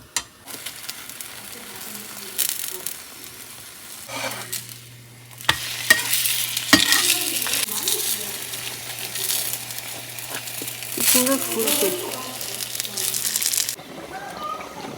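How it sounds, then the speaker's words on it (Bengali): Milk boils in a pot for payesh in a home kitchen and is stirred with a utensil, giving soft scraping, bubbling and clinking that come and go, with a low steady hum beneath and occasional louder knocks. "এখানে এই যে হচ্ছে পায়েস তৈরি করবো বলে দুধটা ফুটিয়ে নিচ্ছি"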